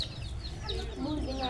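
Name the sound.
chicken clucking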